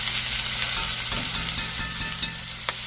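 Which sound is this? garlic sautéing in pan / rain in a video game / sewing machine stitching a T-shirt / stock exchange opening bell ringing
garlic sautéing in pan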